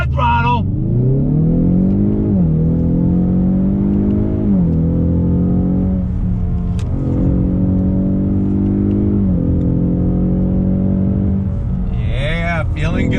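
A 2020 Ford Mustang EcoBoost High Performance Pack engine revving loud and close, rising in pitch through several gear changes with brief dips between them, and a short burst of tire squeal near the end.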